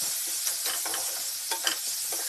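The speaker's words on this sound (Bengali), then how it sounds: "একটু পেঁয়াজটাকে ব্রাউন করে নিচ্ছে" Onions sizzle steadily in hot oil in a pan while a utensil scrapes and stirs them in irregular strokes, close and continuous with no talk.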